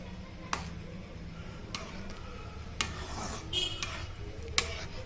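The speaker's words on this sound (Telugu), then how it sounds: "ఈ రకంగా మధ్య మధ్యలో ఒక్కొక్కసారి అడుగంటకుండా మనం కలుపుకుంటూ ఉండాలి" A spoon scrapes and knocks against a pan while Bombay chutney made with gram flour is stirred, several sharp clinks spaced irregularly over a low, quiet background.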